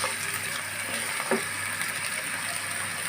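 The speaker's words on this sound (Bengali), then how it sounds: "আমি আলুটা একটু সময় নিয়ে ভাজবো তিন চার মিনিট সময় নিয়ে ভাজবো" Potatoes frying in oil in a pan with salt and turmeric, a dense, steady crackling sizzle filling the whole stretch, close and fairly loud, with one brief clink partway through.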